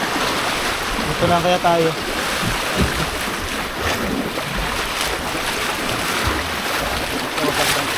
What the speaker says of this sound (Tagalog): lakas ang alon ah